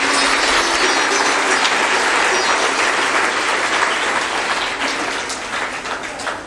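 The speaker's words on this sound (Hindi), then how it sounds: "उनके लिए हम सब लोगों को ताली बजाकर उनका सम्मान करना चाहिए।" An audience at a Hindu religious discourse applauds, a dense, steady roar of many clapping hands that stays loud throughout and fades slightly in the last second.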